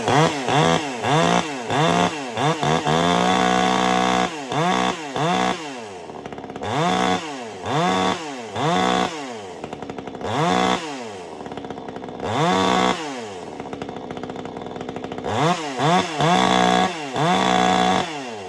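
A Vevor chainsaw revs in repeated bursts, roaring up and dropping back to idle again and again, loud and close, with no talking.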